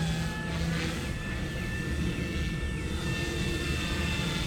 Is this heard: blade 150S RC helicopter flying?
yes